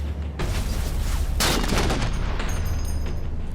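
Sustained gunfire with booming blasts in Halo machinima, a dense continuous volley of battle noise peaking in a loud burst midway, with no clear talk.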